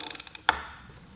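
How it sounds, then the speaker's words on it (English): Bicycle wheel spun on its kickstand by pushing the tire and pedaling, a quick run of light ratcheting freewheel clicks followed by one sharper click and a faint fading whir. "I can push the tire over and roll it or pedal it."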